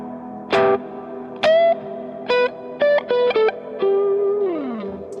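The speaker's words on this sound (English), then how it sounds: "So let's just stick on a reverb." Guitar played through a Line 6 HX Effects reverb, short plucked notes and chords in a sparse rhythm, each ringing out with a reverberant tail, ending on a sliding sustained note.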